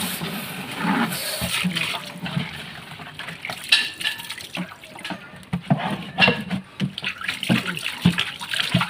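Water sloshes and splashes while a used oil can is rinsed out, with running, gurgling water and occasional hollow metallic knocks against the can, steady and close.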